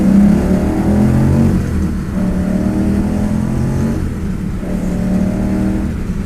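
Engine of a 1959 Corvette convertible roaring hard through first, second and third gears up to 6,500 RPM, the pitch climbing and dropping at each shift, loud and close from inside the moving car.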